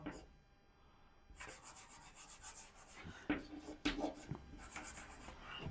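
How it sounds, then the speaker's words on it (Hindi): A teacher writes on a board during a Hindi-medium English grammar lesson, producing scratchy rubbing strokes in irregular bursts, fairly close and moderately loud, with a quiet pause before the writing begins. "चलिए अब लिखते हैं"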